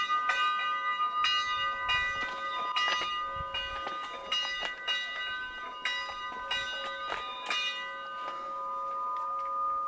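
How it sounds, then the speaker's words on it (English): A large camp bell rings outdoors by Gill Lodge, with repeated metallic strikes whose bright tones hang and overlap steadily for the full stretch, with no talking. "you could probably hear that bell ringing right now"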